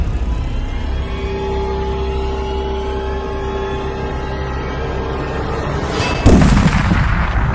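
Gunfire in the online survival game Aftermath MMO rumbles as a steady low din, then a loud close blast bursts in near the end, with no talking.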